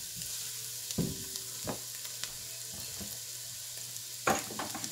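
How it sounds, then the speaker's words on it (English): Acorn squash soup base with garlic being stirred in a pot, a steady sizzle running throughout with a few louder scraping clatters of the spoon against the pot. "I want to give that a stir."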